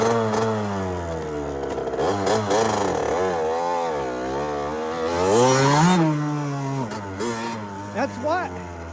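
A KTM 65 dirt bike engine revs and wails close by during off-road riding on a farm, its pitch climbing and falling steadily through throttle changes, with a rider's voice shouting over it.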